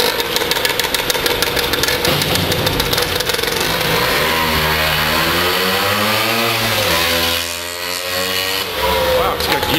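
A Lambretta scooter engine, built by Innocenti, runs loudly and revs up and down through its gears, with the pitch sweeping steadily over nearly ten seconds.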